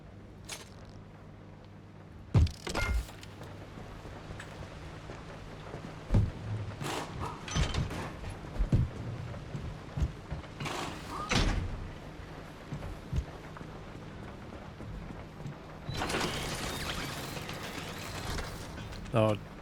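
Crafting a repaired tyre in the game Pacific Drive gives scattered mechanical clicks, ratcheting and creaks, with a longer rattling burst near the end, heard over background talk.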